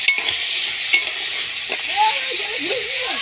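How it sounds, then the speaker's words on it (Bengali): Crab claws frying in ghee in a pan give a steady, close, bright sizzle that hisses continuously throughout, with a few faint stirring knocks mixed in. "এখন দাঁড়াগুলো ভাজা হচ্ছে।"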